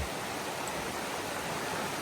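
Bull Brook running high sends up a steady, unbroken rush of flowing water that fills the whole moment at moderate level.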